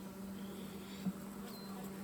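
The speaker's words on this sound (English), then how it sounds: "I am so happy we got bees." Carniolan honey bees buzz softly around an opened hive, a faint, even drone with a steady low hum running underneath.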